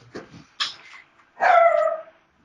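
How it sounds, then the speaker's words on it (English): Several sharp, close barks and a final drawn-out yelp come from a dog indoors, loud against an otherwise quiet room. "That's my cousin's dog."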